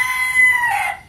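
A rooster crows loudly and close by, a single sustained call lasting about a second that trails off at the end, with no talk over it.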